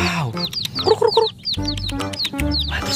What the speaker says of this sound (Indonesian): Wow, ayam rainbow.